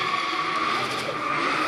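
A drift car at a D1NZ pro championship qualifying round in Tauranga skids out of the final turn, a continuous loud tire squeal with steady engine roar throughout.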